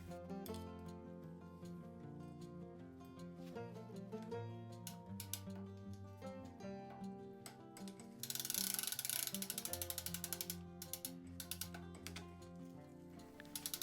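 Repeated ratcheting clicks of a tool loosening and then tightening a set screw on a bicycle guide pulley during a single-speed conversion, close and crisp, with a louder burst of rapid clicking partway through; no talking.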